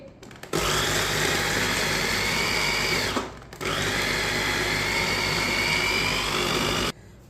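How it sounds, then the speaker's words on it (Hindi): Spinach being ground in an electric mixer grinder: a loud, steady whirring motor runs alone, cuts out briefly midway, then resumes at full strength before stopping near the end. "पालक को ना आधा आधा करके इसे ग्राइंड कर लेते हैं।"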